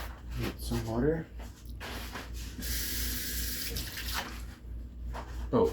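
Water runs from a tap into a sink while a cotton candy machine is being cleaned, a steady rushing stream that swells in the middle and is broken by spoken voices before and after.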